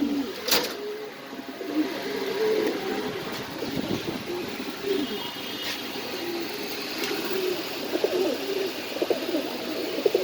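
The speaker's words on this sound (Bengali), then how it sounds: "আজকে এক কটাই কবুতর দেখালাম" Domestic pigeons at a pigeon farm in Mirpur, Dhaka, some sitting on eggs, give soft low coos that repeat through the whole stretch over a steady background hum. A few brief sharper sounds stand out near the start.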